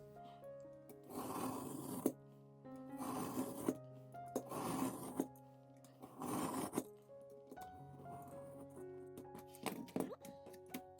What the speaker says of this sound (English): just putting a little bit of pressure on each pass. I'm not trying to cut it all in one pass.